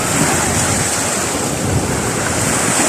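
Sea surf at Bang Saen beach in Thailand, a loud, steady broadband wash of waves mixed with strong wind buffeting the microphone, continuous for the whole stretch with no clear voices.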